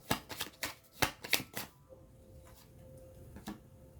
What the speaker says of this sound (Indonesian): Aku coba tarik dulu semua kartunya